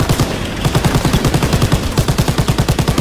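Rapid, evenly spaced machine gun bursts in a WWII train shooter game, loud and close, firing in a sustained rattling stream for several seconds.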